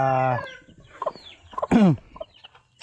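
Chickens on a poultry farm cluck and call in short, separate bursts, one loud squawking call near the start and another near the middle, with quieter clucks scattered between, close by.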